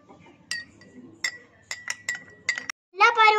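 A spoon clinking against a glass while stirring a hibiscus fresh lime drink, several bright ringing taps in an uneven rhythm, close and clear, followed by a voice speaking at the end.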